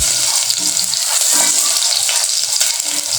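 Constant, close sizzling and crackling as chicken fries in hot oil, loud and unbroken throughout.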